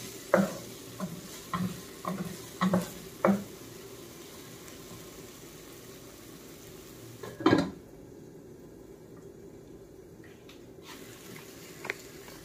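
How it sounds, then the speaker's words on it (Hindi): Spice masala fries in a pan with a low, steady sizzle, marked by a series of regular spoon-stirring knocks and scrapes early on and a louder clatter midway. The sound is close, with no voices. "मसाले को जो है अच्छे से फ्राई करूंगी मैं 5 से 7 मिनट के लिए"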